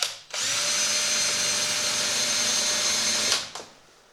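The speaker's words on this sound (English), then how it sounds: "This is either the dullest hole saw I've ever used or I'm doing something wrong." A hole saw driven by a power drill cutting into plastic during work on a 1988 Ford Ranger: one steady, loud whining run of about three seconds, starting abruptly and winding down at the end.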